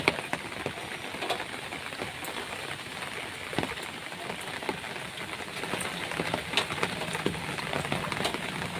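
Steady rain falls on a village road as the first rain of the season, with water pooling on the surface; a dense, even patter fills the whole stretch, with scattered sharper drips standing out close by.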